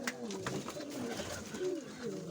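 Soft, low pigeon coos repeat in rolling phrases over a steady background hum, fairly close and continuous.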